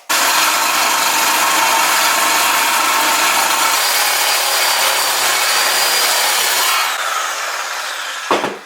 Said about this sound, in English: And we have our reciprocating saw with the metal blade cutter on it.